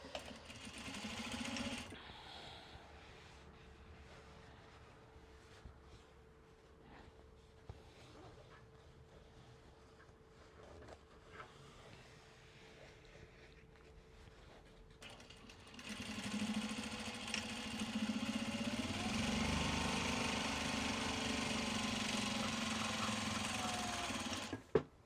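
Sewing machine motor whirring steadily as it winds white thread onto a bobbin, quieter at first and then growing louder and denser for the last stretch, with no talk over it.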